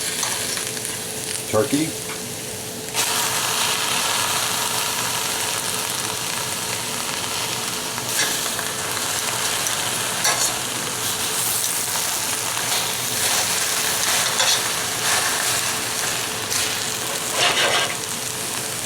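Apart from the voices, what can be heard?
turkey thigh sizzling in a 4-quart pot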